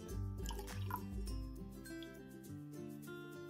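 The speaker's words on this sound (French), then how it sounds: "Je vais commencer par rajouter le vinaigre sur le lait" Vinegar is poured into milk for a one-egg chocolate cake batter, giving faint, quiet drips and liquid trickles over a soft background.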